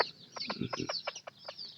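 A mother hen guarding her chicks clucks in a quick series of short, soft notes with faint higher chirps, fairly quiet and close, with no speech.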